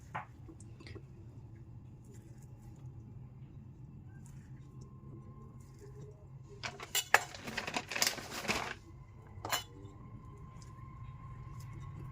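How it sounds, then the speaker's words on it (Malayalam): A knife cuts squid held in the hand, a faint scraping and tapping that turns into a brief cluster of wet slicing sounds, with a soft voice and low room hum underneath. "ഇതിപ്പോൾ ഞാൻ എളുപ്പത്തിൽ കയ്യിൽ വെച്ച് അരിയുന്നതേ ഉള്ളൂ"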